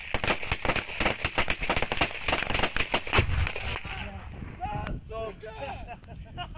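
Rapid bursts of machine gun fire in war footage, fast sharp cracks in a dense rhythm for about three seconds, then fading as a voice talks over the later part.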